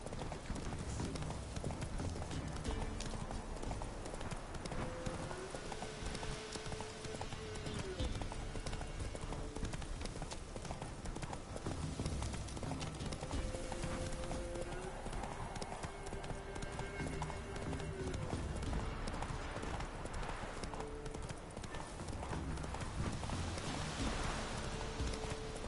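Roach, Geralt's horse in the video game Witcher 3, trots with a steady, continuous clip-clop of hooves under sustained in-game music and ambient atmosphere.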